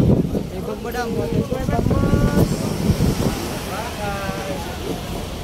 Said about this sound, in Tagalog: Lakas ng alon yan.